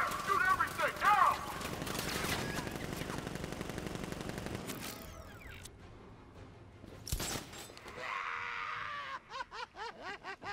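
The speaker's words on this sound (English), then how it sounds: "Gun! Open fire! Shoot everything! Now!" Militia gunfire in a Batman video game, sustained automatic shooting for several seconds then scattered short bursts near the end, moderately loud, with game voices talking over it.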